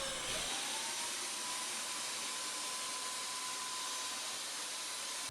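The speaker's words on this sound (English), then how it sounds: "here is the process of throwing on the first coat of sprayed white paint" A paint sprayer lays a first coat of white paint onto a vintage wooden cabinet, giving a steady, loud hiss that starts abruptly after a brief pause and runs unbroken to the end, with a faint whine riding on top.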